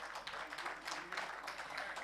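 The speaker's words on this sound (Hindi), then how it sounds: "तालियों का सिलसिला रुकना नहीं चाहिए" Faint applause from an audience at a public keynote event as a guest joins the stage, a steady patter of many hands clapping at a distance.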